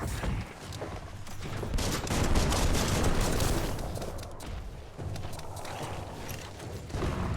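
Sustained gunfire and chaotic action sounds from a gun in the video game Biomutant, a dense, continuous barrage of shots and mechanical clatter filling the whole stretch with no speech.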